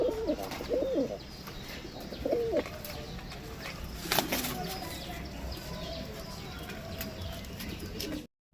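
Rampuri Gazra pigeons coo in short low bursts near the start and again around two seconds, with a soft wing flap midway over steady loft background noise.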